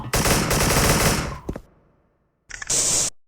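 Automatic gunfire in a shooting video game: a loud sustained burst of rapid shots that stops abruptly, a pause, then a second short burst.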